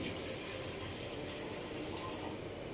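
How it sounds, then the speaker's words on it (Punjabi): Water is poured steadily from a small metal pot into a pressure cooker in a home kitchen, making a continuous, even gushing splash close by. "ਪਾਣੀ ਦੀ ਗੜਵੀ ਆਪਾਂ ਪਾਣੀ ਦੀ ਪਾ ਲਈ"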